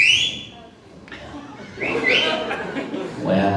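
An audience member at a comedy show whistles a high, clear note at the start and again midway, amid crowd chatter, scattered laughter and murmuring in the room.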